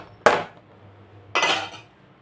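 Two bursts of metal pot handling, a scrape and clatter near the start and another longer rattle midway, close and clear with no talking, as a used pot is rinsed and scrubbed in a kitchen.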